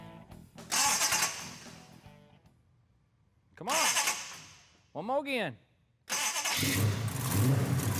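The big V8 engine of a 1971 Plymouth Cuda resto-mod cranks over several times, stumbling and nearly catching, then roars to life loudly at the end; a voice speaks between tries.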